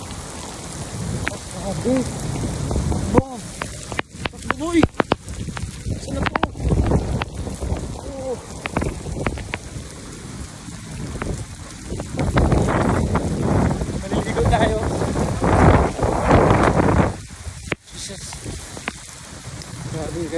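Heavy rain pours in Dubai, a steady hiss of drops on surfaces mixed with gusty wind buffeting the microphone, while people talk and exclaim close by throughout.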